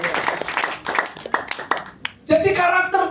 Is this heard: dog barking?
no